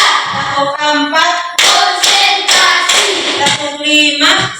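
Patterned group hand clapping from an academic coaching session: crisp claps and taps land at irregular intervals while voices chant loudly along, near and full throughout.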